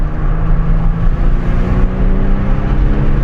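A Porsche Carrera 996 engine revving hard while driving, a loud sustained throaty drone heard from inside the car, steady throughout with a deep low rumble.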